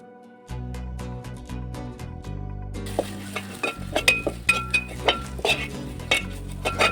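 Chilli powder, coriander powder and Kashmiri chilli powder being stirred into a Kerala fish head curry in a pan, with a spoon clinking and scraping against the metal in an irregular rhythm over a faint sizzle.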